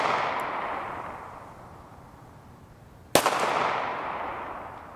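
A single sharp report from a 9x19mm pistol firing 135gr FMJ tracer rounds outdoors cracks out near the end, ringing into a decaying echo over steady background wind noise.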